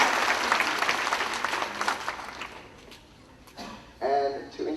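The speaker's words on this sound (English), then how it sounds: "please round of applause" Audience applause at an evening family retreat gathering in Maryland, a broad clapping wash for the first few seconds that fades out, followed by faint voices and a brief spoken sound near the end.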